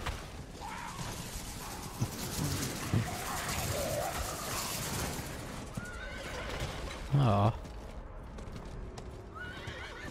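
A horse in Diablo IV whinnies and snorts while hooves clop, with game-like sound effects and a person speaking briefly underneath.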